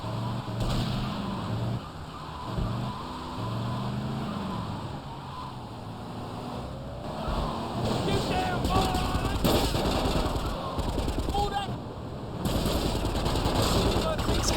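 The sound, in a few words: gunfire shooting rival taxis in GTA Vice City video game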